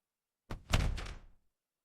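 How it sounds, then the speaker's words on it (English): A door opening indoors: one short, close thunk with a brief rattle, then quiet. "I open the door."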